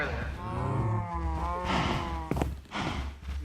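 Minecraft cows moo close by in long, low, drawn-out calls, one overlapping another, followed by a couple of short clicks and soft rustling, with no talking.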